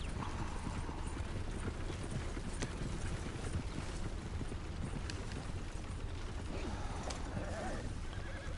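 Horse hooves pounding at a steady gallop in Red Dead Redemption 2, a continuous dense clip-clop close up with creaking tack, running the whole stretch without talk.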